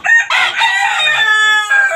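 Close, loud crowing of a rooster in a rooftop cage of tiger chickens, one drawn-out crow with a short break near its end and no voices.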